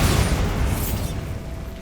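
Bombarda blasting spell explosion in Hogwarts Legacy, a loud, close boom with a rushing burst that decays into a rumbling tail.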